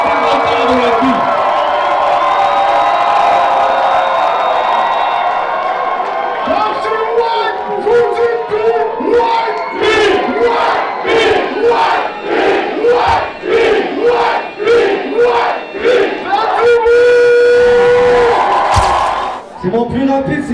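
Concert crowd cheering and shouting loudly, a sustained roar breaking into rhythmic chants and whoops with a voice over it near the end.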